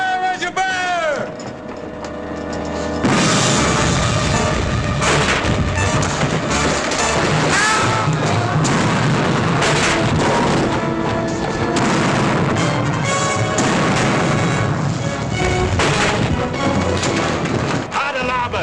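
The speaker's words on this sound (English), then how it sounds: "Prepare for broadside! Fire as you bear!" Cannons firing a broadside from a sailing warship: heavy, continuous booming and thudding that swells loud and stays dense for many seconds, layered with shouting voices and battle noise.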